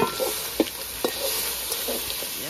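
Steady hiss of Jamaican crawfish fritters sizzling in a hot frying pan, with a few soft scraping stirs breaking through the crackle.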